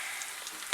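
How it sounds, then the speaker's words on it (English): Onions frying in oil in a pan give off a quiet, steady sizzle with faint crackles and a small pop at the end, with no voices. "So our onions, as you can see, they have started to brown up."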